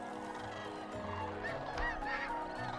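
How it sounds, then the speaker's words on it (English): A flock of geese honking at sunrise over Bosque del Apache wildlife refuge in New Mexico, several overlapping calls at a moderate distance over a steady outdoor background, with no one talking. "all these gorgeous birds cooing as they wake up in the morning"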